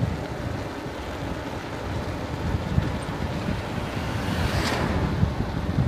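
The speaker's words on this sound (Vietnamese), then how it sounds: "trời rất là gió mạnh" Strong wind blows hard during a boat ride, a dense roaring rush buffeting the microphone with rumbling gusts and a sea-like wash, steady and loud with a swelling gust near the end.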